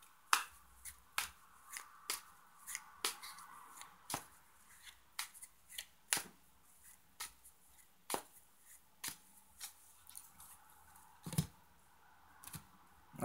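Tarot cards shuffled by hand in a quiet room, a close series of sharp riffling snaps and soft slaps repeating irregularly for about thirteen seconds with no voices.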